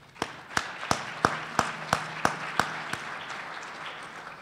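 Quiet, sparse applause at an energy summit lunch: about nine crisp, evenly spaced claps in a steady rhythm that stop partway through, then near silence.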